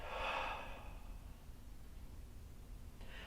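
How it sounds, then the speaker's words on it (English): One soft, breathy exhale opens the clip during a singer's body alignment exercise, then fades into quiet room hiss. "And exhale and stay upright."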